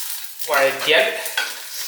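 Ingredients being stirred and sautéed in a hot pan while preparing Kerala erissery, a short burst of sizzling and spatula scraping that swells and fades over a couple of seconds.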